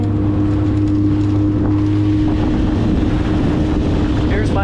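A small motorboat with a tiller, the Sout 430, runs fast across the water with a loud, steady engine drone and hum, rushing water and wind close by, and a voice briefly speaks over it.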